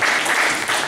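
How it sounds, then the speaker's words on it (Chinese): Audience applause welcoming a speaker to a health and human rights lecture, a dense steady wash of clapping filling the short moment without pause. "所以我们现在热烈掌声欢迎友莲。"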